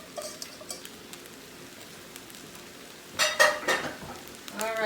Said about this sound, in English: But we are going to add all this rice.